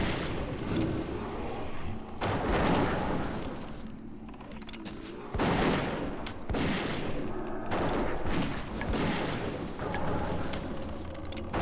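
Steady Shot attacks from multiboxed hunters in World of Warcraft's Cataclysm Dire Maul, heard as repeated loud bursts of overlapping shot impacts in a rough rhythm, each volley followed by a brief lull.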